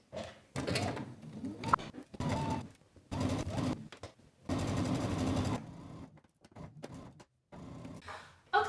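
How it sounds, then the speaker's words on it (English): A sewing machine stitches a shoulder and sleeve seam on a garment, running in close bursts of rapid mechanical whirring separated by short pauses, alone with no talk. "we're going to stitch across the shoulder and then across the bottom of the sleeve and down the side"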